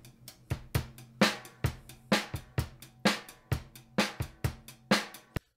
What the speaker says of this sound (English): But the guys just sent me a stereo mix of all the drums.